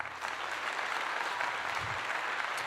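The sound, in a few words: round of applause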